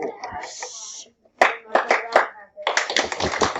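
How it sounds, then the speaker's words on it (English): Students in a middle school math class clap their hands in short bursts, a few sharp claps mixed with classroom chatter and talking nearby. "some of you just finished it and did clap, clap"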